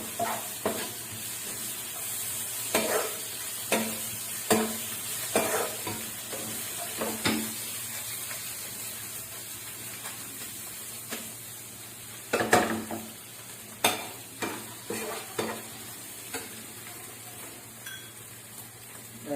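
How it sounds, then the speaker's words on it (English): Chicken and onion masala mixture sautéing in a pan, a steady soft sizzle broken by repeated scraping stirs and occasional clinks of a spoon against the pan, close by and fairly quiet. "Saute it for 10 to 15 minutes"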